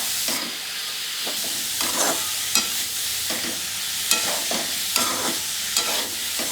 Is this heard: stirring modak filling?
yes